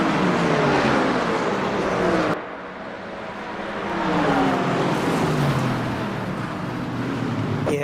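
McLaren race car in a racing video game, an engine droning and shifting pitch as it accelerates, briefly dropping off before building again, loud and steady with no voices.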